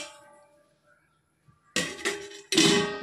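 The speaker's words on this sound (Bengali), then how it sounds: "এখন আমি এটাকে ঢেকে দেব, গ্যাসের হিটটা একদম কমিয়ে দেব।" Metal lid set onto a cooking pot on a gas stove while meat cooks without oil: a quiet stretch, then three sharp clanking contacts close by, the last ringing briefly.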